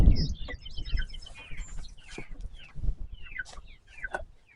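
Chickens cluck and chatter close by in a busy, overlapping flock, with soft footsteps and rustling underneath.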